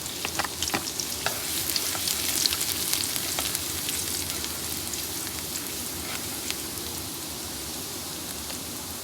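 Garlic frying in a pan until golden brown for Filipino sautéed tomato with egg, a loud, dense crackling sizzle throughout, with scattered sharp pops and spatula scrapes.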